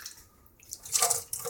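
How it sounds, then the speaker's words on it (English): Hot water is poured off from a wetted coffee filter, a short splashing gush that rises after a quiet start and runs for under a second, close and fairly clear. "we're gonna pour that water off"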